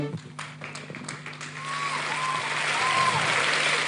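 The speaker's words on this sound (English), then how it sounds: "We can give them another round of applause." Audience applause at a fintech conference in Lagos, a broad steady wash of clapping that builds slightly over four seconds, with a faint tonal hum and brief whistle-like tones underneath.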